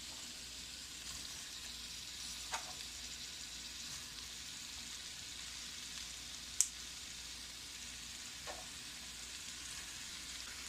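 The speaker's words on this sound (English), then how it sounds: "So we're just gonna saute everything all at once." Onions and garlic sauté together in a pot, giving a faint, even sizzle with a couple of soft utensil clicks and one brief sharp tap midway.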